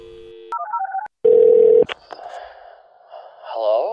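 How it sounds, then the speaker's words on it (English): A telephone being dialed to make a call: a steady dial tone, then a quick run of keypad touch-tones, a loud sustained tone and a click, followed by faint line noise and a brief voice. "I need to make a phone call."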